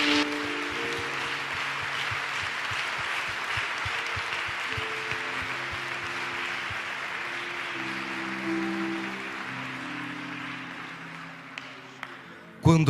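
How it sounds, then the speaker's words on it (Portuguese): A church congregation at Assembleia de Deus Madureira in Rio de Janeiro claps for Jesus in a long, steady round of applause, with sustained organ or keyboard chords underneath, tapering off near the end. "Dê uma salva de palmas para Jesus"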